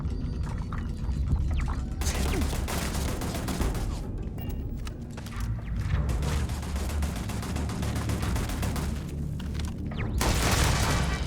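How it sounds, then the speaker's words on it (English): Sustained video-game gunfire in Starfield, with dense bursts and booms packed together over a steady loud bed of combat noise, continuous for the whole stretch, with no clear voices. "Why are we shooting things?"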